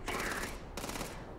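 A short, dense burst of rapid automatic gunfire in the space game Starfield, loud and continuous with a brief break midway.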